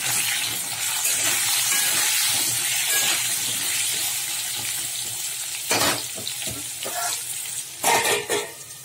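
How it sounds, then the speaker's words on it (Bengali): Potato pieces fry in well-heated oil seasoned with salt and turmeric, a steady close sizzle running throughout, joined near the end by a few louder stirring clatters. "এই আলুটা দিয়ে দিলাম তেলের মধ্যে, তেলটা ভালো করে গরম করে নিয়েছি"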